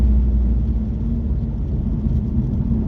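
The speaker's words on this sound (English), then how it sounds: "Car moves out real good." Engine roar from a 2015 Mustang with a 6R80 automatic and modified exhaust launching down a drag strip, a steady low rumble that holds loud and even for the whole stretch with no talk over it.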